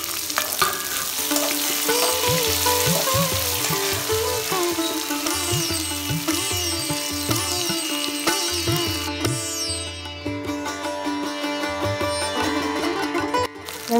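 Small onions frying in oil alongside brinjal for a South Indian poriyal, a bright constant sizzle under steady rhythmic stirring and scraping, with a tonal music bed playing throughout and no speech.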